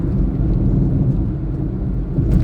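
Tire road noise inside a four-year-old Honda Brio at speed, a steady, dense low rumble filling the cabin without pause.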